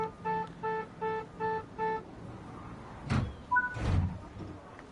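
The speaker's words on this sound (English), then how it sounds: "let's lock the doors" Train doors locking in Train Sim World 3 on the NEC New York–Trenton line: five evenly spaced warning beeps, then two heavier door thuds with a brief chime between them, moderately loud over a low rumble.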